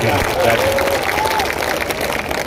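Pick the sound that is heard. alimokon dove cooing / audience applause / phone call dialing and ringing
audience applause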